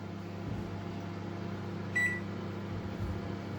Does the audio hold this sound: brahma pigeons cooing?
no